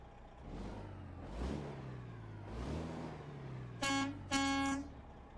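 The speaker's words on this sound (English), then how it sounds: "Air horn sounds great." An engine revs up and settles a few times in a video game truck, then two loud, blaring air horn blasts sound close by near the end.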